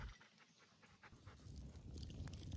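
An Australian shepherd dog pants close by, quick, soft breathy puffs that grow steadier and louder over a couple of seconds, next to a wood fire burning for charcoal.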